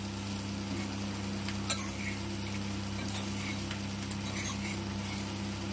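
A spiced banana fry is stirred in a pan, with soft scraping and faint sizzling over a steady low hum and a few light clinks of the spoon against the pan.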